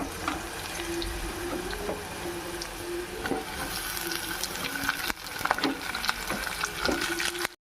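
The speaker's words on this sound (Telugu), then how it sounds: "తర్వాత వంకాయ ముక్కలు వేసేసుకుందాం." Eggplant pieces tossed into a hot pan of oil with turmeric, giving a steady sizzling frying hiss with occasional clatter of stirring, close and moderately loud throughout, with no talking.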